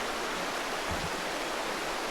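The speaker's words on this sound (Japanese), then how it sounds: "川のせせらぎだけが聞こえる空間" Steady rushing water of a flowing river at a gorge, a continuous broadband murmur with no voices, close and even throughout.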